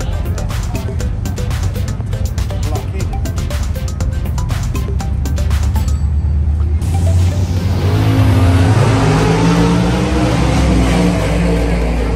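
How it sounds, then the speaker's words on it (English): 1967 and 1969 Chevy Camaros drag racing at New England Dragway in Epping, New Hampshire. Rapid engine pops and idling burble give way to a loud, rising full-throttle launch roar that sweeps upward as the cars pull away. "The 67 Chevy Camaro, taking on Dan Hill and a 69 Chevy Camaro"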